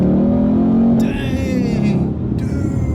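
A supercharged 2017 Ford Mustang GT revs hard and climbs quickly to its rev limiter, a loud, close engine roar that stutters at the limit with a couple of sharp bursts.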